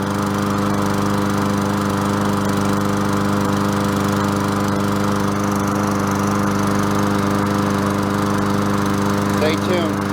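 A Columbia push mower engine runs close by, a loud, steady drone that continues unbroken throughout.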